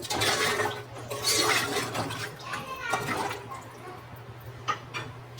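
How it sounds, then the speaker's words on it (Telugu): Water, measured out for cooking veg biryani rice, splashes into a cooking pot in uneven bursts that then settle into lighter trickles and drips. "వాటర్ వేస్తున్నాను"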